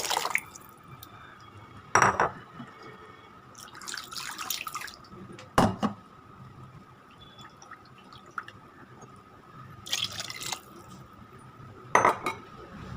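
Cooked lentils are poured and scraped into a pot for sambar, heard as intermittent wet slops and clatters of a utensil against metal, separated by quieter stretches of low background hum.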